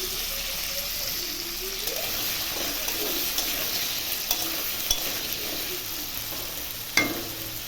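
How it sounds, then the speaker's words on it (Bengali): Potatoes frying in a pan for biryani give a steady, moderate sizzle and crackle, with a few clinks of a utensil near the end. Close and continuous, with no voices. "হয়ে গেছে, এখন আলুগুলোও ভেজে নেব।"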